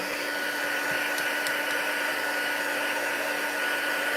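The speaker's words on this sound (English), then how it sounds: "I'm going to hit this with a heat tool. That way it will dry." A handheld heat tool blows hot air over freshly block-stamped ink, a steady, loud whooshing hum running unbroken from start to finish.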